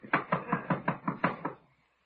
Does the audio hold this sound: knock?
yes